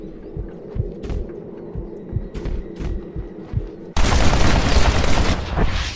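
Gunfire in the Western video game Red Dead Redemption: after a few seconds of low, rhythmic thumping, a sudden loud, dense burst of shots erupts and keeps going to the end.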